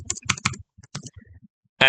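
Quick clusters of clicking keystrokes on a computer keyboard, close and crisp, broken by short pauses, with a louder burst of clacking at the end.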